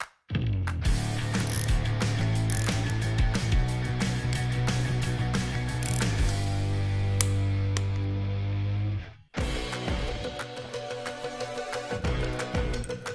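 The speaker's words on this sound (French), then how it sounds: "maintenant, je peux les serrer au bon couple de serrage" A ratchet wrench tightening cylinder head bolts to torque during a classic Mini restoration, loud rapid clicking of the pawl in long continuous runs, pausing briefly before another stretch of ratcheting.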